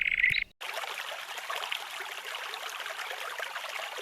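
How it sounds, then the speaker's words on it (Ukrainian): A mountain stream babbles steadily after a brief pause, a continuous close rush and trickle of water with no voices. "Так дюрчить гірський струмок."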